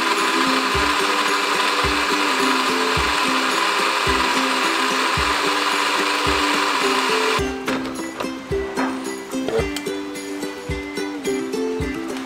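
A kitchen blender whirs at a steady, loud pitch while mixing sodium alginate for edible water, then cuts out and leaves knocks and rattles of the jar.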